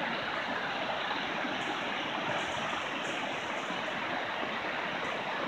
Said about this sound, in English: A small creek.